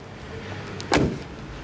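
The hood of a black 2002 BMW Z8 Roadster being closed, a single loud, close thump after a quiet moment, fading quickly with no talking.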